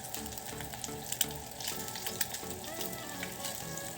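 Boiled eggs roast in hot coconut oil in a pan, giving a soft, continuous crackling sizzle with scattered small pops, heard close up and fairly quiet, with no talking.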